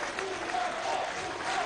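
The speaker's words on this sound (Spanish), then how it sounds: "es un aplauso que reciben estos niños" Children are applauded by the audience at a presidential cultural ceremony, a brief, moderately distant spread of clapping heard as a soft continuous wash.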